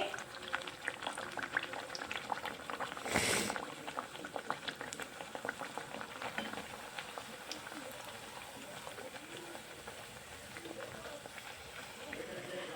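Bhatura dough frying in hot oil, a dense steady bubbling sizzle with crackling pops throughout and a brief louder burst of spattering partway through, under a voice talking.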